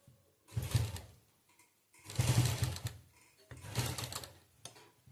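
A sewing machine stitches slowly through thick cloth with a zip, running in three short separate bursts with quiet pauses between them, close and fairly soft.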